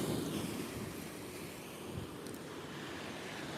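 Gentle waves wash onto a Lake Michigan shore, a soft continuous surf with wind rushing across the microphone, fairly quiet and without voices.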